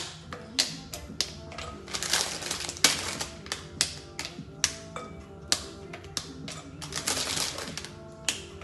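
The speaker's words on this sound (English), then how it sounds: "Break it up into reasonably small little chunks so that it will melt a bit faster." White chocolate being snapped into small chunks, a run of crisp sharp cracks and taps at irregular intervals, close up over a faint musical background.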